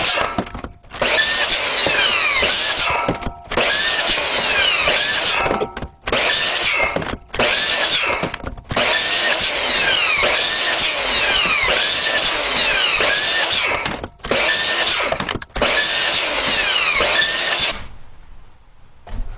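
A power saw makes repeated cuts through a 10-foot stick for fishing rod holders, with about seven loud close bursts of cutting whine separated by short pauses, ending in quiet.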